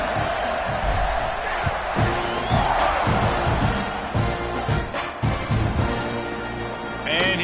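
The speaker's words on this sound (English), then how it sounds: "this crowd is feeling themselves after that last drive" Football stadium crowd roaring and cheering during a kickoff, a dense continuous wall of voices with swelling shouts and whoops, steady and loud throughout.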